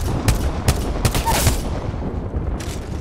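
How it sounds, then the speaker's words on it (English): Gunfire from Apex Legends on PS4, with several sharp shots spaced about half a second apart standing out over a steady, busy game background, then a quieter stretch and one more burst near the end. "Shots"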